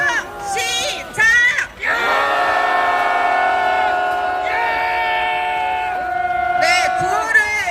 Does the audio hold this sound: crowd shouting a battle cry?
yes